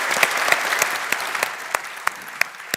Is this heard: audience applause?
yes